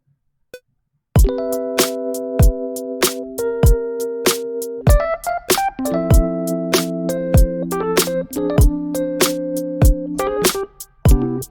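Keyboard chords on electric keys for a neo-soul K-pop beat, a brief note then sustained harmonic chords played close and clear in a loose, syncopated rhythm with no talking.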